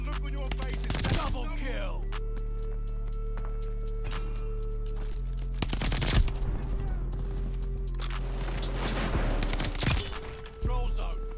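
StG44 rifle fire in a video game, heard as short bursts of sharp gunshots at intervals over a steady low engine-like hum and synthetic game tones, with someone talking between the bursts.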